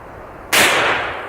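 A powerful handgun fires a single loud, sharp shot at close range, striking a concrete target, its report ringing out and decaying over about a second after a brief quiet lead-in.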